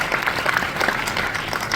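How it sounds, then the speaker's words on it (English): An audience at a panel discussion with Brooke Shields applauds, a brisk, fairly loud round of many hands clapping that holds steady through the whole moment. "clap for the girls"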